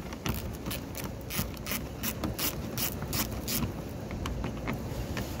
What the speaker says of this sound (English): So we're going to be using a 10mm socket and a 1/4" ratchet.